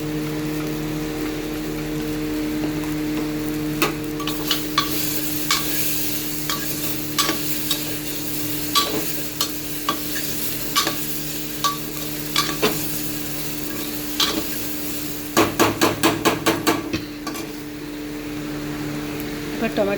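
Crushed ginger, garlic and turmeric fry in a pan with a constant close sizzle and repeated sharp scraping stirs, ending in a quick flurry of stirring strokes.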